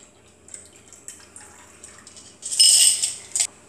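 A clear martini cocktail is poured through a Hawthorne strainer into a pre-chilled glass, with faint drips at first and then a brief, brighter splashing stream near the end.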